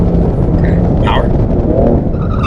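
BMW M car at full throttle on a track day, a steady loud engine roar from inside the cabin with a dense low rumble throughout and no pause.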